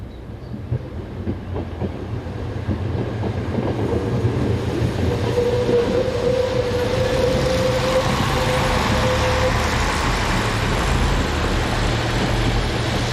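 A Class YM diesel multiple unit runs south out of Lemvig in Denmark with a rising, steady rumble and rail clatter, growing louder as it nears and holding a strong diesel drone.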